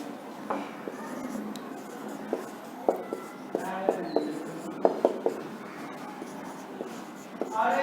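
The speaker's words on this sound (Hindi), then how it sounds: "अब देखिए, मैं एक छोटा सा ट्रिक लिख रहा हूं" Pen or chalk writing out a compound interest maths trick, with soft scratching and intermittent tapping strokes close by against low room noise.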